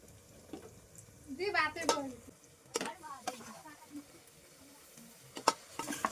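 Intermittent scraping and clinking of a spatula stirring marinated mutton in a pressure cooker, with faint sizzling between strokes; a voice speaks softly in between.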